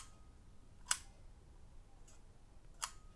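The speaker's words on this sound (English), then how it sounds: "and the shutter will fire" A 1930s pocket camera shutter fires with a faint, sharp click, followed a little later by a second click and a softer tick between them, all very quiet and close in a still room.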